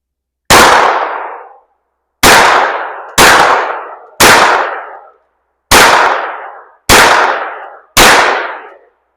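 Seven loud, sharp shots from a Hi-Point 1095 10mm pistol-caliber carbine fired outdoors at targets, spaced irregularly about one to two seconds apart, each with a short decaying tail and no talk.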